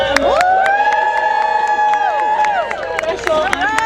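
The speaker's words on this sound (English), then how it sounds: "if everybody could give us a big cheer to welcome" A crowd at a Groundhog Day gathering in Sun Prairie cheers and whoops in welcome. The sound is loud and sustained, with high, drawn-out voices, shouting children and scattered applause continuing throughout.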